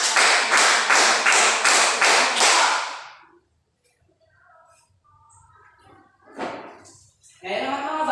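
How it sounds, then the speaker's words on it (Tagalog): A classroom of children claps in quick, steady bursts, about ten sharp claps in an even rhythm, then stops and is followed by quieter scattered talking. "bigyan natin siya ng 10 palakpak"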